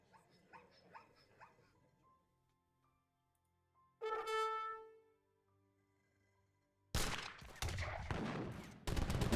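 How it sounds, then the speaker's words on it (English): Age of Empires 3 DE battle as musket units open fire on each other, with a long crackling volley of loud gunfire bursts after quieter scattered shots and a short tonal game cue. "And they start shooting against each other"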